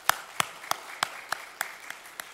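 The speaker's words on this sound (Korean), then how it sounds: "박수로 뜨겁게 환영하겠습니다." A church congregation claps to welcome a new member during a Sunday morning service, with sharp, evenly spaced hand claps about every third of a second, fairly close and faint, with no talking.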